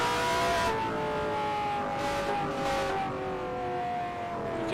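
Onboard engine note of a Voigt-powered Coyote race car during the 1974 USAC Arizona 150, a loud continuous drone that eases and swells as the driver lifts carefully into a corner behind another car.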